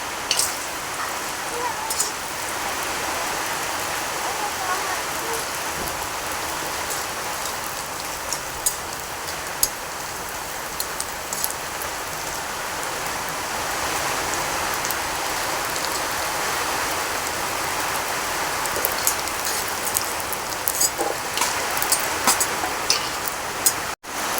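Steady rain falls outside a home kitchen where khichuri and begun fries are being cooked, a dense continuous hiss with scattered drip ticks, while a voice talks faintly now and then.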